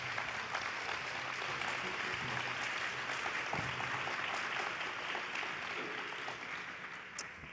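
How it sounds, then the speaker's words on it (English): An audience applauds a panel of women after a conversation at a Meet the Author event about Bob Hope's wartime letters, a dense, sustained clapping that fades slightly near the end. "Let's give the ladies of the panel a round of applause for a great conversation"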